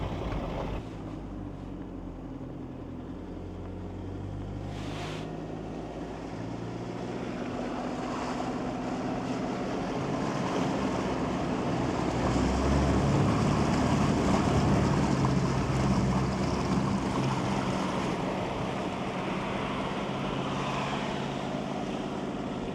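Steady broadband roar of a car pushing through a rushing river in Landmannalaugar, Iceland, swelling louder midway, with churning splashes and engine rumble throughout; no talking.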